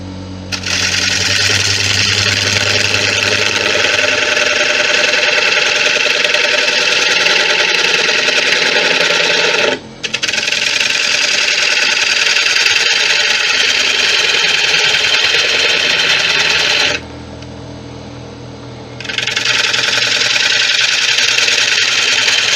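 A lathe spins a 15 inch white oak bowl at speed, a loud, steady mechanical whir and hum with a brief dip near ten seconds and a longer quieter stretch near eighteen seconds before it resumes, no voices.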